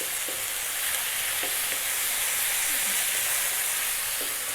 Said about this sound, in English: Very important to keep stirring now, because otherwise the powders are going to burn